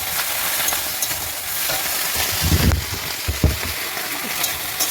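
Vegetables fry with turmeric in a pan, a steady close sizzle with stirring scrapes and occasional louder clatters, with no pauses throughout.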